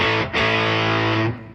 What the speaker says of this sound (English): So I've got different distortions going to each output.